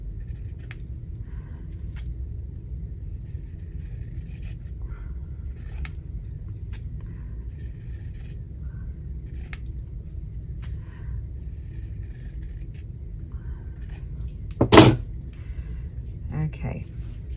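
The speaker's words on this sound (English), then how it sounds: "I'm going to trim this one down." Scissors trimming a paper sample for a craft tag, heard as one short, sharp snip near the end over a steady low background rumble.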